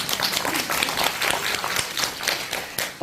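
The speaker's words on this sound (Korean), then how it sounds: "박수 많이 치주소." An audience at a Korean book concert applauds, steady, dense clapping at moderate volume that runs without a break through the short stretch.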